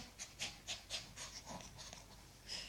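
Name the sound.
dog panting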